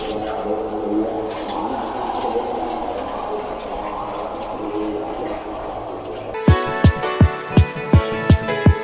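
Pieces of tapioca are washed in water, with close splashing and sloshing at first, then a run of regular rhythmic knocks or pulses near the end.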